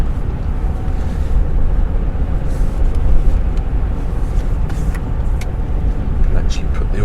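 A car cruises along the A2 dual carriageway between Whitfield and Canterbury, with a loud, constant road and engine rumble and buffeting wind noise throughout.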